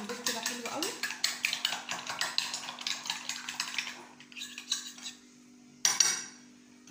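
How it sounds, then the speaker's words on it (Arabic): Eggs being beaten in a bowl for crumb-coated chicken panné, a fast run of clinking utensil strokes that thins out and ends with a sharp knock near the end. "لازم تضربي البيض كده حلو قوي."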